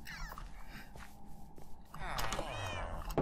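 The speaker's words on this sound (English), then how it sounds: "I heard a kitty." A few Minecraft cat meows, thin and electronic-sounding, come over faint background noise, with a louder burst of sound near the end.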